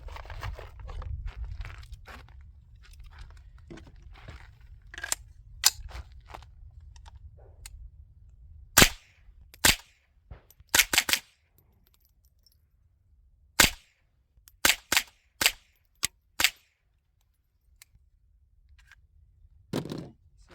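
A .22 rifle fitted with a Huxwrx Flow Ti suppressor fires about a dozen sharp, dry, muted cracks, some spaced and others in quick clusters, against a quiet background with faint low rumble at the start.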